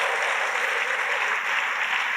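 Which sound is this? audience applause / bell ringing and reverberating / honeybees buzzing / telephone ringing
audience applause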